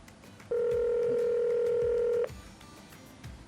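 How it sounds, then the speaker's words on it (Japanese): A telephone keypad tone sounds while calling a restaurant, a single clear electronic beep held steadily for nearly two seconds over quiet room background. "じゃあ電話するね。"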